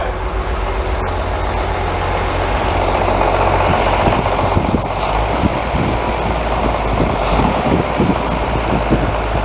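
A vintage REO engine with a repaired carburetor idles steadily while warming up, a loud, continuous mechanical drone with rhythmic chugging and faint rattles and no talk.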